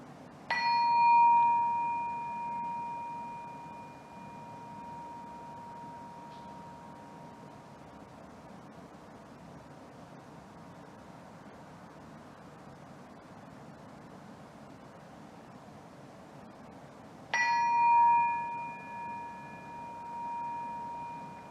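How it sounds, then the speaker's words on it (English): A meditation bell rings clearly twice, about sixteen seconds apart, each strike bright and sustained with a long, slowly fading tone over quiet background hiss. "Just listen to the bell sound."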